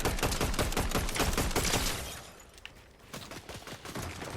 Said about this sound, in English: you can also use this SMG from range, and it absolutely shreds